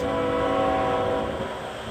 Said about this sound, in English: And they're honking to let people know to get off the train tracks.